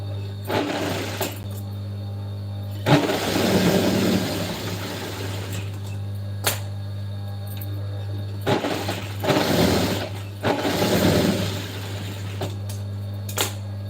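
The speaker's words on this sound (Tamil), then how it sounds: "அதனால் உட்காந்து தைச்சிட்டு இருக்கேன்" A sewing machine stitches a blouse in short bursts of rapid mechanical clatter. Each run lasts a second or two, with a low steady hum underneath and single sharp clicks between the runs.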